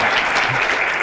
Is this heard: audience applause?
yes